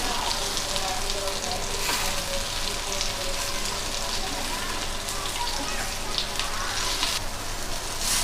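Soybean pieces sizzle and fry steadily in a hot pan as they are flipped, giving a continuous close crackling hiss without any talk.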